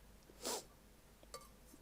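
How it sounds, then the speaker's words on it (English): A person blows their nose once in a short, loud burst of breathy noise, followed a moment later by a fainter snort, in a quiet room. "I have to blow my nose."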